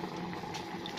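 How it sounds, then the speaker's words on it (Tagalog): A pot of Filipino adobo boils on the stove, a close, steady bubbling and simmering hiss with faint popping throughout the brief moment, no voices. "Kahit kumukulo yan, di ganun siya kainit."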